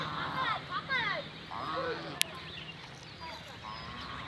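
Domestic geese honking outdoors, several nasal calls in bursts, moderately near over light background noise.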